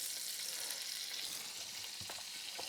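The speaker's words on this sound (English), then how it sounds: "I'm going to put a little bit more butter in because I want a good amount of butter." Butter sizzling in a pan that already holds brown sugar for caramelized sweet potatoes, a steady faint hiss throughout with a couple of soft knocks near the end, close and without speech.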